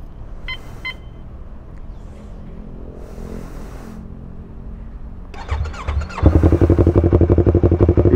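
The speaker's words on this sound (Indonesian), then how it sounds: "Ini knalpotnya nembak-nembak bro." A 2016 Yamaha R25 motorcycle fitted with a Two Brothers exhaust idles low, with a few beeps early on, then is revved, giving a loud, close, throbbing engine note with popping from the exhaust.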